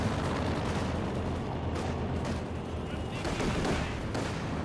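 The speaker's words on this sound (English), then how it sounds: "The squad is suppressed by the MG." Machine gun fire rattles in Company of Heroes 2, with bursts of gunfire and distant artillery blending into a dense, loud battle din, under a faint voice.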